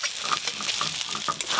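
Fried potatoes tossed into oily spice paste in a pan while cooking river fish curry, producing a close crackling sizzle with uneven bursts as the pieces land and are stirred.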